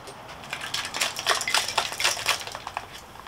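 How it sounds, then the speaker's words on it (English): Ice cubes dumped from a cocktail shaker into a trash can, producing a close, rapid cascade of clattering, rattling cube hits that lasts about three seconds. "Drop that ice out."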